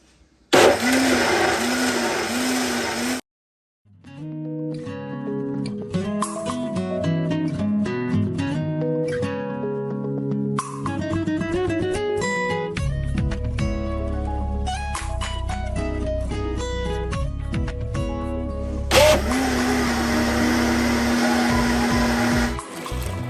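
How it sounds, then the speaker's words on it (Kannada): A kitchen mixer grinder blends beetroot with curd, loud whirring motor bursts starting and stopping, with short pauses and changes in pitch as the load shifts. "ಮೊಸರು ಬೀಟ್ರೂಟ್ ಎಲ್ಲ ಒಟ್ಟಿಗೆ ಗ್ರೈಂಡ್ ಮಾಡ್ಬೋದು"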